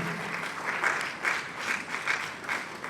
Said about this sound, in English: support me with a round of applause and escort them to the stage with it